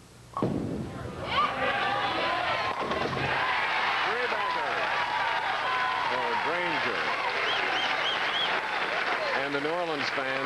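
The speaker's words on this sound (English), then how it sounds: "the New Orleans fans are cheering for him naturally" A crowd of New Orleans bowling fans at a 1988 pro tournament claps and cheers at a steady level after a loud opening thud, while a commentator talks over them.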